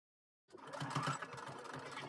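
Sewing machine stitching a face mask made from a men's shirt, starting abruptly and running as a steady, close mechanical whir with a rapid needle rhythm.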